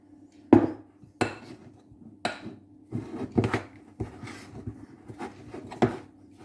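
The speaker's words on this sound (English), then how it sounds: "Just using a big flat knife." Dough is mixed in a bowl with a big flat knife, giving a series of irregular knocks and scrapes against the bowl, close and fairly distinct, with quiet gaps between them and no talking.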